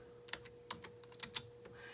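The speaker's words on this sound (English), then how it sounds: "we're going to type in gold background" Computer keyboard typed in a quiet room: about seven light, crisp keystrokes in a quick, uneven run, close and soft.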